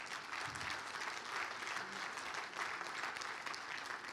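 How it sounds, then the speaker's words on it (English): Audience clapping at a valuers' talk, an even, fairly quiet patter of many hands continuing throughout at a distance. "So once again, a big clap to us."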